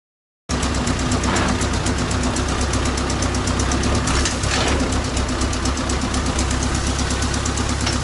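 An old T-16 tractor engine runs continuously while driving, a loud steady knocking drone with rattling vibration from start to end, beginning abruptly after a short silence.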